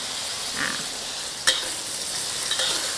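Long beans stir-fry with egg and fish sauce in a hot pan, giving a continuous loud bright sizzle with a sharp clatter of the spatula midway.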